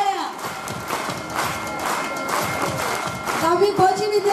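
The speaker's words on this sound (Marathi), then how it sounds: "जरा जोरदार टाळ्या" Applause at a school prize-giving ceremony after an ideal female student award is announced: steady clapping from an audience, mid-distance and fairly loud, with a voice over a loudspeaker coming in toward the end.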